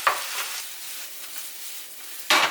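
Mushrooms sautéing in a pan for mushroom pasta give a soft, hissing sizzle with a few louder stirring swishes at the start and a sharp burst near the end, close by and with no talking.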